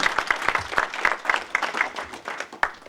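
An audience at an Urdu mushaira in Canada applauds, a short burst of scattered, moderately paced hand claps from a modest indoor crowd.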